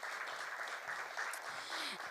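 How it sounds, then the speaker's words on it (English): An audience at a women-in-communication professionals event gives a continuous round of applause, a dense, moderately distant wash of clapping with no gaps. "Round of applause for her."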